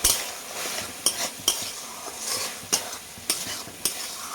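Fried okra and tomatoes go into a pan with spiced tomato masala for a fish curry, making a run of sharp spoon clatters over a steady sizzle.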